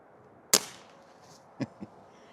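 An Air Venturi Avenge-X Tactical .25 caliber air rifle lets off one sharp, loud crack as the trigger is pulled, followed about a second later by two small mechanical clicks, in a quiet setting.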